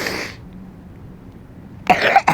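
Two short coughs from a girl, close and fairly loud, the second following quickly after the first, with a longer burst of the same breathy sound near the start and quiet in between.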